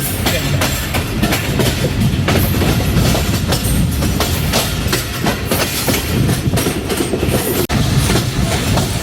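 Train rolling on rails into Tariq Road railway station on the 36DN Sir Syed Express, Pakistan, with a steady loud rumble and rhythmic clickety-clack of wheels over rail joints throughout, with no talk.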